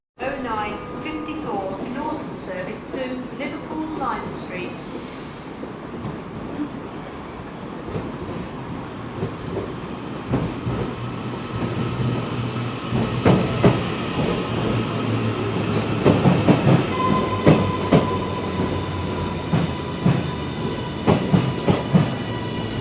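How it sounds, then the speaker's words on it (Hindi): A passenger train pulls into a railway station platform on the Manchester Piccadilly to Liverpool Lime Street line, its rumble and wheel clatter swelling with metallic squeals and clunks. Someone talks over the noise. "तो फाइनली हमारी ट्रेन यहाँ पहुँच रही है। वो दूर से नज़र आ रही है,"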